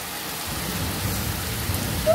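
Steady rain hisses and patters throughout during a storm in Bancroft, a broad wash of falling water with no voices, growing slightly louder at the end.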